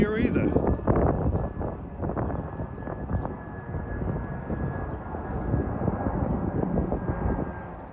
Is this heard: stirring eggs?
no